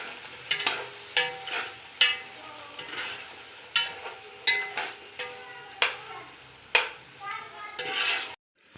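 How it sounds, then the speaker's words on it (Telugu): Spices frying in oil in a pan for egg biryani, a faint sizzle under a steady run of sharp scraping and clinking stirs roughly every half second, ending abruptly. "ఇది ఆయిల్లో బాగా ఫ్రై చేయాలండి,"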